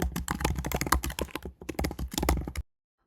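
Keys clatter on a computer keyboard as text is typed into a Canvas course editor, a quick, uneven run of close clicks for about two and a half seconds before stopping.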